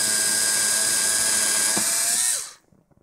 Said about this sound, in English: try and drill this without destroying anything, and in such a way that the camera can see it.